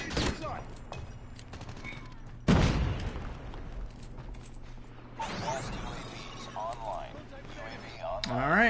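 Gunfire in the Call of Duty video game, with bursts of loud shots and booming impacts scattered across the match amid game effects, while a player talks over much of the action.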